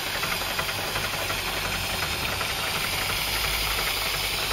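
A Land Rover Series engine idles slowly after carburettor tuning, a steady close-up rumble with a light ticking knock and rattle running evenly throughout.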